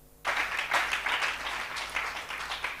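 Church congregation clapping hands together, a dense, steady burst of applause starting abruptly and continuing throughout without talk.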